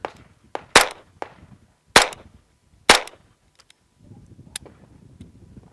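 Shots from a Chiappa 1911-22 pistol held with a loose grip, causing a malfunction: a few sharp, loud cracks spaced about a second apart, with small clicks and mechanical clatter between them, then quieter handling noise.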